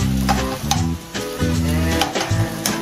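Spanish sardines frying in hot oil in a pan for pasta aglio olio, sizzling steadily while being crushed and stirred, with repeated scraping strokes of the utensil against the pan, close and loud with no talk.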